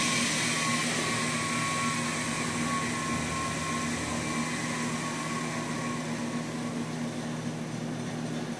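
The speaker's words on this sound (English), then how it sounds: "Runs smooth and has plenty of torque, probably more than this little mill needs." An X2 mini mill runs on an upgraded motor, a steady, smooth electric hum with a faint high whine, continuous and fairly quiet at close range with no talking.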